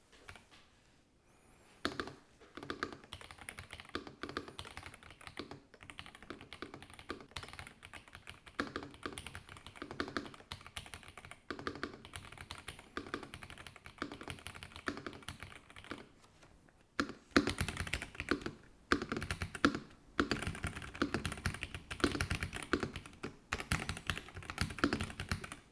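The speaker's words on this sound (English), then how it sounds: "I'll be testing out the keyboard with the ROG NX Red switches installed." Typing on an ROG Azoth wireless mechanical gaming keyboard fitted with ROG NX Red switches: a dense, continuous patter of close keystrokes in uneven bursts, with brief pauses and a louder, faster stretch in the latter part.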